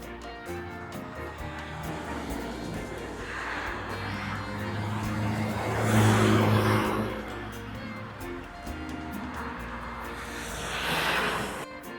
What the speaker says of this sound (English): So there go 2 buses heading up to Mornington East.